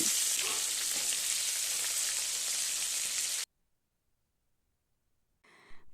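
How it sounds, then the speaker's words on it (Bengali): A bata fish, just flipped, fries in a pan with a dense, even sizzle for about three and a half seconds, then the sound cuts to silence before a brief return of sizzling at the end. "এরকম হালকা একটু রং ধরলে এবার মাছকে পাল্টে দিচ্ছি"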